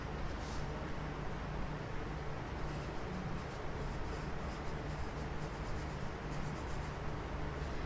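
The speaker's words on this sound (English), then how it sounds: "I'm going to write it down on my notebook." A pen writes a measurement into a notebook, producing soft, steady scratching and rubbing strokes close to the microphone, fairly quiet over faint background hiss.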